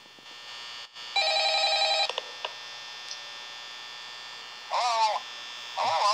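A telephone rings in Five Nights at Freddy's during the night shift, with a burst of electronic trills followed by two shorter warbling rings. A steady electrical hum runs underneath throughout.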